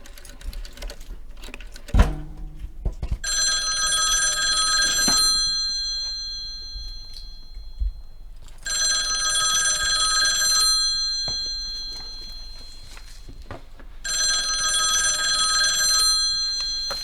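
A telephone bell rings in three long trilling bursts with pauses between them, clear and moderately loud, after some light tapping and a single knock at the start.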